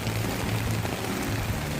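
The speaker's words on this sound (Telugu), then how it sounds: "చినుకులు కాస్త భారీ వర్షంగా మారింది." Heavy monsoon rain pours down in Gajuwaka, Vizag, a steady, dense wash of rainfall that holds at an even loudness throughout, with no voices.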